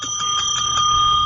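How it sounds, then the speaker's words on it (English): A bicycle-style bell rung in a radio studio, bright ringing tones struck several times in quick succession and held at a loud, close level, with no talking over it. "Inappropriate bell."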